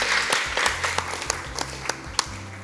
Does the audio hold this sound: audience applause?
yes